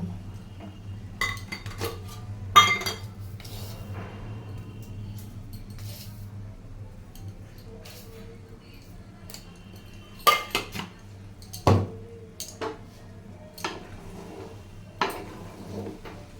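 A metal spoon clinks against a cooking pot while sugar is stirred in for chicken roast pulao, with scattered sharp taps and scrapes separated by pauses over a low background hum.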